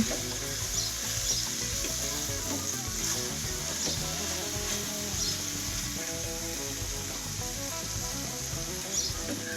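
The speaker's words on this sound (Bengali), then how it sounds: "যতটা সম্ভব কিন্তু মশলাটাকে কষিয়ে নিতে হবে বন্ধুরা" Masala paste sizzling and being stir-fried in a pan while cooking potol (pointed gourd) pasinda, a steady dense crackle with spatula scraping running throughout, close and continuous.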